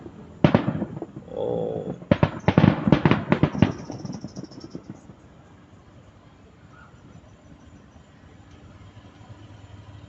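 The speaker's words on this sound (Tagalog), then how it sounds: "tapos na ang paputok sa piyesta ng Senior San Vicente sa Palo Alto" Fireworks and firecrackers crackle at a town fiesta for San Vicente in Palo Alto, a dense burst of sharp bangs for several seconds that then stops, leaving faint outdoor ambience; a voice briefly exclaims.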